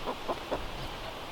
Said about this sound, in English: So that's what you hear is my little chicken trying to